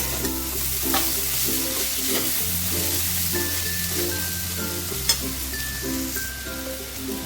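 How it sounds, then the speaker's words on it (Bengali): Pumpkin chhechki is fried and stirred in a pan, giving a steady close sizzle with soft scraping throughout, no voices, and one brief sharper clack near the end. "আর একটু নাড়াচাড়া করবো"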